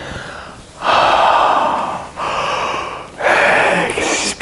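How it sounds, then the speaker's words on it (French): Deep, slow breaths during a tantric maha mudra session: long, loud airy inhales alternating with softer exhales, close to the mic with no talking. "Inspirez."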